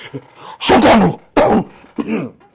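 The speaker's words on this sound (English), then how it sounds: "had to clear my throat" A raspy throat clearing in three rough bursts, close and fairly loud, with brief pauses between.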